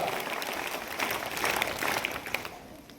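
Students clap loudly for a classmate at a school national-holiday event, a steady patter of applause lasting about three seconds, with a faint voice or two under it.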